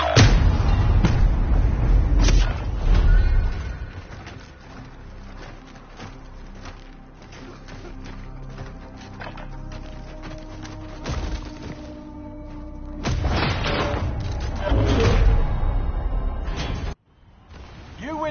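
Gunfire and artillery fire in a Warzone video game, heavy thuds and crashes in loud bursts at the start and again near the end, with a quieter stretch between and game voices talking under it.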